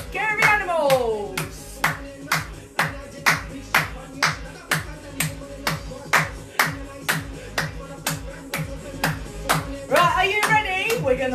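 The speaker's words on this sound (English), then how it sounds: "Clap your hands. Come on, let's make some noise" Hands clap in a steady rhythm, about two claps per second, loud and close over upbeat music during a playful children's jungle dance session.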